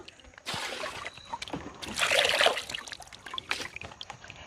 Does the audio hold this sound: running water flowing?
yes